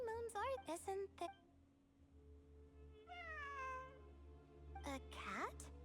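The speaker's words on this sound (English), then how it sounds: "It really is a cat." A cat meows several times in Genshin Impact during the Sumeru event. The rising, wavering cries come in bursts, clear and fairly close over a steady low hum, with a player's voice mixed in.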